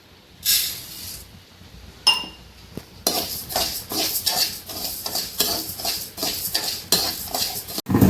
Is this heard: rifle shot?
no